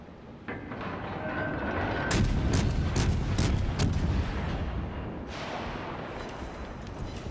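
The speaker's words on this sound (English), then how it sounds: "I'm firing HE like a crazy person." A tank cannon in a video game fires high-explosive shells over and over, a rapid series of loud sharp blasts over a continuous rumbling battle din.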